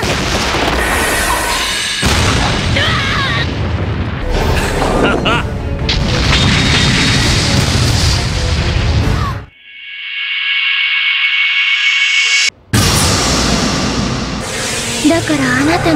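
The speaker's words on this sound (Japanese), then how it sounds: "爆破。" An anime explosion from Fairy Tail, from a blast enchanted into armor, booms loud and full for several seconds, drops into a thin high tone, then blasts again.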